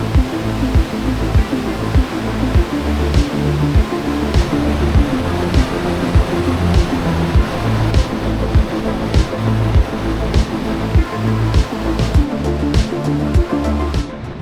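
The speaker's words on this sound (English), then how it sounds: "we can now feel and hear the full power of Box Canyon Falls." Box Canyon Falls in Ouray, Colorado roars at close range, a loud continuous wash of falling water with deep pulsing rumble, heard steadily from the pebbled base with no voices.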